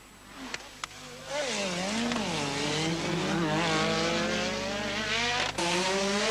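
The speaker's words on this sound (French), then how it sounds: "Freinage d'urgence, Jonathan Palmer a des problèmes. Pour se remettre dans le bon sens, une seule méthode, le demi-tour glissé." A 1985 Formula 1 car at Monaco brakes hard and spins around, its high engine note rising and falling with a few sharp knocks, then holding a loud sustained wail, heard in the distance without talk.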